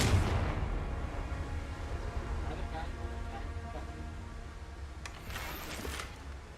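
A Confringo spell detonates in Hogwarts Legacy, opening with a deep boom that decays into a long low rumble, then a sharper crackling burst near the end.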